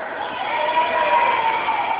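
Red team's supporters cheer and shout at a Father's Day school event, a loud sustained crowd roar rising and holding steady for about two seconds.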